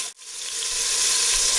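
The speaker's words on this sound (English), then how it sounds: "We're going to saute the garlic." Garlic sautéing in olive oil in a pot over medium heat, giving a steady bright sizzle that starts abruptly after a brief drop and continues close and clear without talk.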